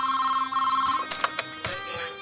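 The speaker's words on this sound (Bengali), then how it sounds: "সোনালীকে একটা ফোন করে দিন" A telephone rings with a sustained electronic tone that cuts off, followed by a few clicks and handling sounds nearby.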